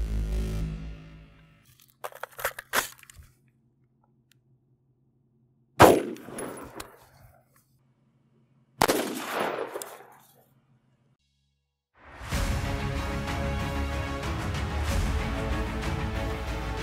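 Rifle with a 16-inch barrel firing Hornady 73-grain FTX rounds into 10% ballistic gelatin at an outdoor range: a few small knocks, then two sharp, loud shots a few seconds apart, each with a short decaying echo, followed by steady noise.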